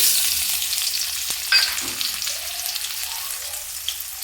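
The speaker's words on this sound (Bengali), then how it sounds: "পেঁয়াজটা হালকা লাল করে ভেজে নেব" Chopped onion fries in hot oil for a rui fish curry, a steady soft sizzle with a brief stir or clink partway through and no voices.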